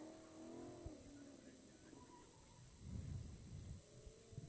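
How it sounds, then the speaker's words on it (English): ESP class autocross cars run a course at a regional Solo event, their engines heard at a distance as a steady low drone that swells briefly near the end, with talk over the top. "We got some ESP cars on course now. You can hear them."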